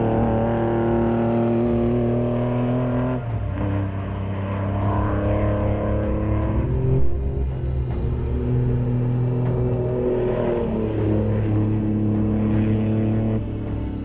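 A BMW 745i Winfield race car laps a track, its big engine droning steadily and loudly close by, pitch shifting through gear changes and revs with no talk over it.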